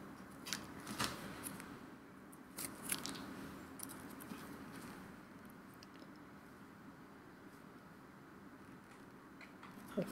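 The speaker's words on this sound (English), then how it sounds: "So if you need to trim a little bit more, then that's fine, which I think I'm going to on these. And we'll trim the other one as well." Scissors snip through Graphic 45 paper to trim a chalkboard tag. A few crisp, close cuts come in the first three seconds, followed by soft, quieter paper rustling and handling, with no speech.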